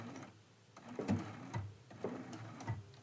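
A home sewing machine stitches into the leaf point of a medallion quilt, a few short mechanical bursts of needle clatter with brief pauses between them, close and fairly quiet.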